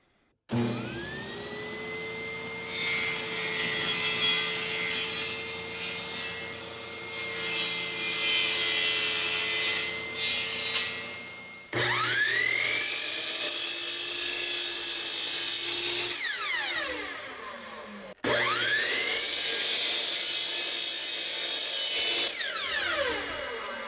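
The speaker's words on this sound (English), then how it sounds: "Then I can drill pilot holes and countersinks for 1 1/4 inch screws" A power drill whirs steadily through wood in three bursts, drilling pilot holes and countersinks for screws, the motor pitch rising at each start and winding down at each stop.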